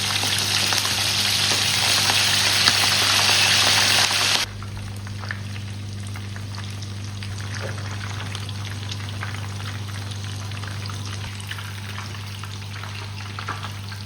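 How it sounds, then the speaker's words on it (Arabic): Stuffed pigeons filled with freekeh, liver and gizzards hiss and crackle loudly as they go into hot oil and ghee, then settle after about four seconds into a softer steady sizzle over a constant low hum. "هنبدا ننزلهم في الزيت عشان نحمرهم"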